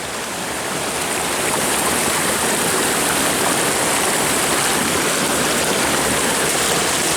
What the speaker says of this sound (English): We got another water crossing.